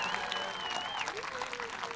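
Sustained audience applause at a fifth grade promotion ceremony, steady dense clapping with a few whoops and whistles throughout, filling the whole moment.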